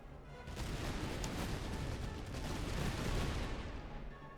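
Massed musket volleys in the Master of Command Prussian campaign battle, a dense, continuous crackle of gunfire rolling on without pause at a faint, distant level.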